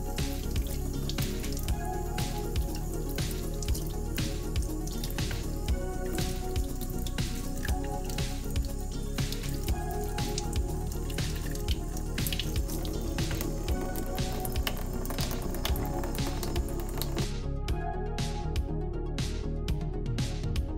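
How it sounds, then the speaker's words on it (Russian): Water runs from a tap and splashes steadily over salmon being rinsed in a sink, with irregular drips and patters throughout. "И обязательно промойте рыбу под проточной водой,"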